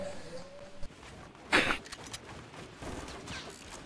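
A sniper rifle fires once in a video game: a single loud, sharp crack stands out midway over a low, busy game background.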